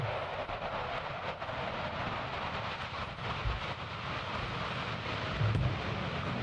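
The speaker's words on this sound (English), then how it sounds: "And here we have the Typhoons now." Eurofighter Typhoon jets flying at RAF Coningsby produce a broad, steady engine roar that stays fairly loud throughout, swelling slightly toward the end with a low rumble underneath.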